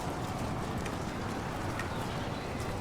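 Horses gallop across a Total War video game battlefield, a dense, continuous rumble of many hooves clip-clopping together with a steady, busy texture throughout.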